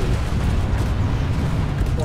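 Splash damage from a Nighthawk explodes in the Planetside 2 video game, a dense sustained rumbling roar of blasts that fills the whole stretch, loud and close, with voices faintly under it.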